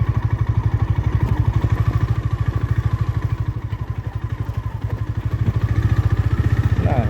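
A motorbike rides along a rough off-road track, its engine thrumming in a steady, close, loud pulse with slight clatter, holding a fairly even pace throughout.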